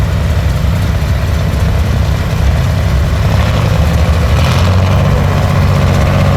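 A 1967 Versatile 118 four-wheel-drive diesel tractor with a 352 V6 Cummins engine idles at a threshermen's show, its loud, steady low rumble holding close and constant throughout with no talking.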